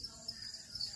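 Continuous high, shrill trilling of a cricket kept in a rearing box, steady and fairly close, with no talk over it.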